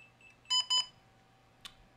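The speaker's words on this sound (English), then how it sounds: "Starts beeping, as you can hear it." DJI goggles give two short electronic beeps close together while pairing with the aircraft, followed after a pause by a faint click, all over a quiet low hum.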